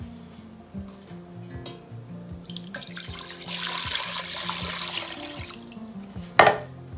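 Water pours in a steady, rushing stream for a few seconds over a low background hum, ending with a brief clatter.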